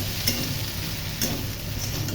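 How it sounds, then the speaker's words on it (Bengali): Steady close sizzle of soybean curry frying in a pan, a dense continuous hiss with faint periodic ticks throughout. "সোয়াবিনের তরকারি কষা হয়ে গেছে, এখন জল দেব।"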